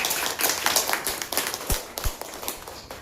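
Audience clapping at a Gujarati talk about health and buying a bed, a scattered burst of hand claps with several sharp individual claps standing out, fairly close and steady through the whole stretch.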